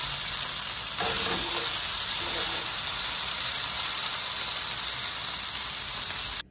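Loud, steady sizzling of beef frying in a hot pan, continuous hiss throughout with a brief clatter near the start.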